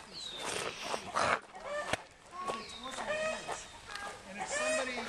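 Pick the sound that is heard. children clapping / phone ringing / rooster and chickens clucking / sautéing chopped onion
rooster and chickens clucking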